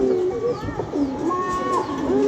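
Pigeon cooing repeats in soft low phrases over a busy background, with a few higher bird chirps mixed in.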